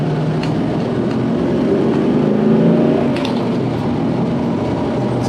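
An original 1970 Ford Boss 302 Mustang with a shaker hood and 302 V8 drives along, its engine a steady, close droning rumble that swells briefly in the middle as it pulls harder.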